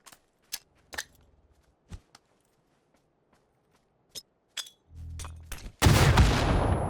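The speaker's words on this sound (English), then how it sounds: "let me try and shoot this guy" Sparse, crisp gunshots in PUBG on Xbox Series X, single cracks spaced a second or so apart at varying distances, followed by a rumbling swell and a loud burst of noisy gunfire at the end.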